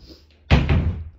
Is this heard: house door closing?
yes